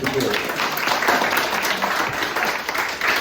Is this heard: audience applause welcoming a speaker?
yes